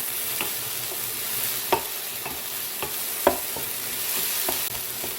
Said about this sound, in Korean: 그런 다음 밥을 넣고 충분히 볶아줄 거예요.